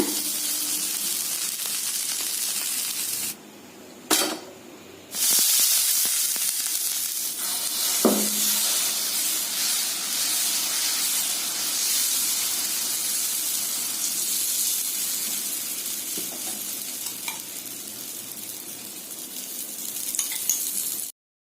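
Millet (kambu) dosa sizzles steadily in oil on a hot pan, a continuous loud frying hiss broken briefly by a pause and a couple of clinks.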